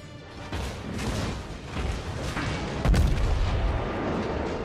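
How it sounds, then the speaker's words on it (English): Naval gunfire from the USS New Mexico (BB-40) battleship shooting armor-piercing shells in World of Warships: a steady, dense rumble of distant booms with one sharper, louder blast near the three-second mark, no talking. "So I'm just bombing away at them, trying to get good hits on them."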